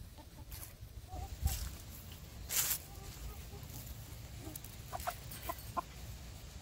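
Hens clucking softly at a distance while being herded into a coop, a few scattered clucks and short calls over quiet outdoor background.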